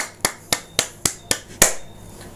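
Six sharp single hand claps in an even, steady rhythm about half a second apart, close and crisp, the last one slightly louder, with quiet room tone between and no talking.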